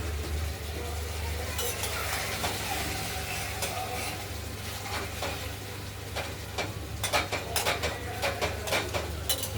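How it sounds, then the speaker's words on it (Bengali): A spice paste made with red chilies fries in oil for a potato, tomato and paneer curry, giving a steady low sizzle with occasional stirring clicks and a quick run of scrapes near the end. "কষানো হচ্ছে মশলাটা, এখনো পুরোপুরি কষানো হয়নি"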